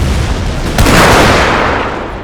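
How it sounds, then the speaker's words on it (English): Cannon shells crash down across a chaotic forest battlefield in an American Civil War strategy game, a loud, dense wall of booming impacts and rumble that surges and stays continuous, with no talk. "Screen shaking around as all the cannons just land all about."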